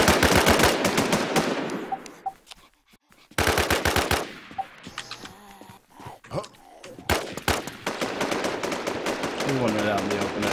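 Rapid automatic gunfire in a first-person shooter, loud close bursts of repeated shots broken by brief pauses, with scattered distant shots and game sounds between.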